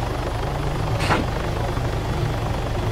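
Helicopter rotor noise from the Arma 3 Altis Life game world, a steady low throbbing drone with a brief whooshing swell passing through midway, heard alone without talk.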